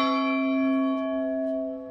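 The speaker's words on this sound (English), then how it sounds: "But they left one of the bells with a string, so people can literally just do this." A church bell swung by pulling its rope rings out once, loud and close, its long steady tone sustaining and slowly fading.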